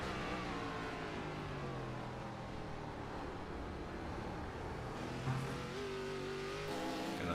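ARCA race cars roar around Watkins Glen in a continuous loud engine drone, with one car's note rising as it accelerates down the straightaway into turn 1.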